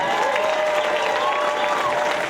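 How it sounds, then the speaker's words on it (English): An audience at a Las Vegas stand-up comedy show applauds in a dense, steady wash of clapping that stays loud and even throughout, with no voices standing out above it. "keep clapping. Let's start clapping."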